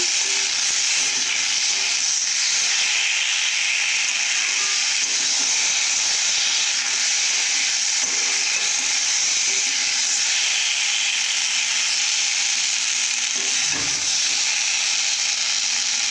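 Potatoes fry in a covered pan while a rohu fish curry is being prepared. The result is a steady, hissing sizzle with a steamy quality that holds evenly and fairly loud, with no speech.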